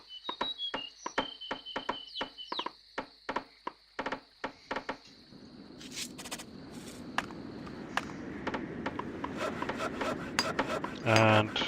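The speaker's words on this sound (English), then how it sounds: "wait for them to actually start hammering it" Workers in Settlers 3 hammering and chiselling stone while building a pyramid, with a run of sharp, evenly paced knocks and taps early on giving way to a denser, continuous rasping scrape of tool on stone.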